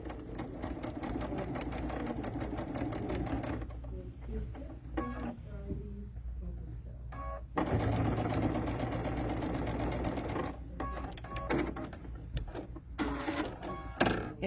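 A computerized sewing machine set to a quilting menu stitches a quarter-inch quilt seam in a steady close whirring run, pausing briefly midway before resuming, with a person talking over it at times.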